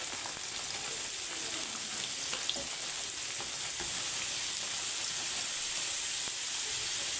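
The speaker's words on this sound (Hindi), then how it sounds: "चिकन को हम करते हैं हाफ फ्राई।" Chicken half-frying in a pan over a gas flame, a loud continuous close sizzle and hiss with faint stirring scrapes, steady throughout and without speech.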